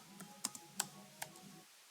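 Code is typed on a computer keyboard: a handful of quiet, close keystrokes in an irregular rhythm, followed by silence.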